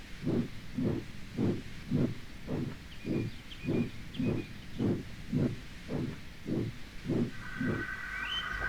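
Toby the steam tram engine chuffs rhythmically into a junction, about a dozen even puffs of steam sounding at a steady pace with faint whistling tones above them.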